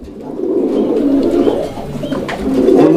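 A male pigeon coos close by in low, throaty rolling calls, repeated a few times with no other sounds.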